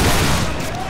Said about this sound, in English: Make ready, take aim, fire.